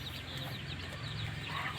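A multicoloured breeder rooster in a green Konkan farmyard makes a run of low, close clucks over a steady outdoor background, with no one talking.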